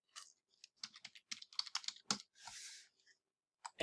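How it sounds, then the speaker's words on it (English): Quick, light keystrokes tap on a computer keyboard in a short close burst, with irregular clicks and a brief soft rustle between them, and no talking. "You can type settings in the search bar here"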